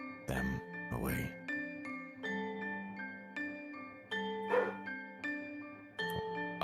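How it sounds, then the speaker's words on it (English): Several sharp dog barks ring out in bursts over a lingering tonal hum, some close and loud, others spaced apart. "My dogs have been fucking yapping all day."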